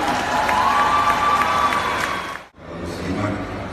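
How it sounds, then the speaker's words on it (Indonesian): An audience at the opening of a Fatayat Nahdlatul Ulama congress in Palembang breaks into applause mixed with cheering and crowd noise, loud and sustained before a brief drop and a return of the clapping and murmur. "Tepuk tangannya."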